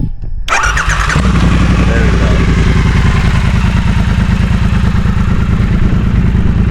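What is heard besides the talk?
Triumph motorcycle engine starting and idling, scrambler exhaust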